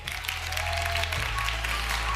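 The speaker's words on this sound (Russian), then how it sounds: "Вам аплодисменты!" An audience at a national student graduation closing ceremony claps steadily in a large hall, a continuous wash of applause over a low sustained musical tone.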